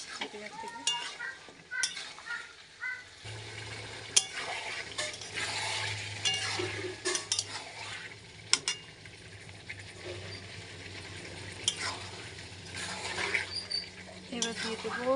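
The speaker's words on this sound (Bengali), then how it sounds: "চিকেনগুলো ভালো করে কষতে হবে যতক্ষণ মশলাটা আরও তেল ছাড়ছে না চিকেনের থেকে।" Chicken pieces frying and stirred with spices in oil in a pan, a steady sizzle with repeated scraping and clinks of a utensil against the pan, close and moderately loud throughout.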